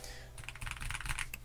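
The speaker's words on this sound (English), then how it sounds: "For a keyboard to be pulled out of the box and sound this good" Typing on a MelGeek Modern97 mechanical keyboard gives a quick, close burst of crisp clacky keystrokes in an uneven rhythm, heard alone without speech.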